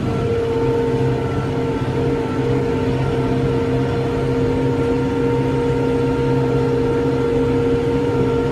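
A CASE Farmall JX 110 tractor engine drones steadily while pulling a TUME HKL 2500 seeder across a field sowing spring wheat, a loud constant hum with a tonal whine, heard from the cab without talking.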